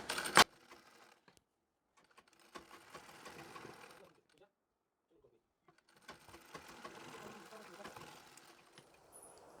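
Sewing machine stitching the seat and leg seams of a Marathi-style nine-yard saree garment, running in two bursts of rapid needle chatter separated by a pause, with a sharp clack at the start and quiet talk in between.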